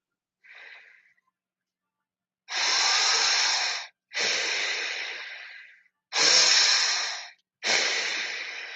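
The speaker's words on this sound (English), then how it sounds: "These should be fairly quick inhales and exhales. You are using some force on these breaths." Quick, forceful breathwork breaths, a brief faint breath followed by four long, loud, noisy inhale-exhale rushes of air close to the ear, with short silent gaps between, no talking.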